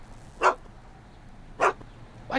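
Einstein the dog barks three times from the Back to the Future video game, each sharp bark spaced about a second apart over a quiet background hum.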